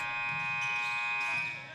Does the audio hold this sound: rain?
no